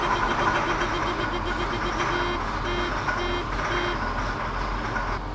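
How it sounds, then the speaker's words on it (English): A farm sprayer's neutral alarm beeps in a steady repeating pattern of short electronic tones over a low engine hum, moderately close and without talk. "I turned the key on and the neutral alarm came"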